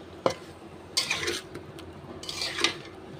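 Ridge gourd curry being stirred in a pan, with a few brief scrapes and clinks of a utensil against the metal and a faint background hiss, close by.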